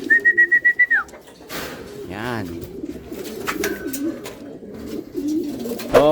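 Racing pigeons coo in soft repeated bursts on a rooftop, with a sharp whistle at the start and a person speaking briefly between the calls.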